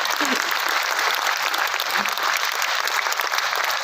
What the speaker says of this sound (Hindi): एक बार जम के तालियां बजाइए